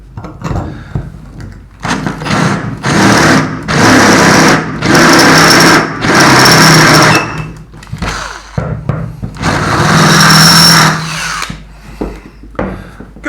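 An electric drill bores a hole down through a piece of metal, its motor whining loud and close in long bursts, then easing off between runs.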